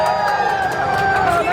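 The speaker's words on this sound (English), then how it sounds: "yourselves a round of applause. We made it." Tram tour passengers at Universal Studios Hollywood clap and cheer together, a dense, steady burst of crowd noise with voices mixed into the applause throughout.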